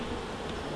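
Honeybees in an open hive of a gentle colony give off a soft, steady, even buzz for a brief moment.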